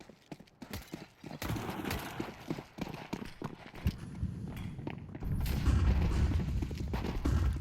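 Footsteps in Counter-Strike during an Astralis vs FUT grand-final match at PGL Bucharest, a rapid irregular run of clicky steps pushing forward, steady and fairly close, thickening into a louder rumbling bed toward the end.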